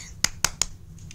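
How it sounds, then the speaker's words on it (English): Three sharp, evenly spaced claps ring out close by against a quiet room background, with a faint fourth near the end, after someone finishes connecting wires to a battery in a children's electricity kit. "I'm clapping for myself."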